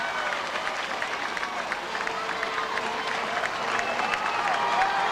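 A crowd at a 2003 high school 5A state championship baseball game between Elkins and Round Rock cheers and applauds steadily, a dense wash of clapping that swells slightly toward the end, with a commentator speaking over it.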